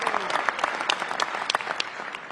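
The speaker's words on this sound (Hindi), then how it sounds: "और अभी जब आप कर रहे थे और मैं ताली बजाना शुरू हो गया" Steady applause from a crowd at a 150th anniversary event for Srila Prabhupada, dense and continuous clapping with individual sharp claps standing out, fairly close and loud throughout.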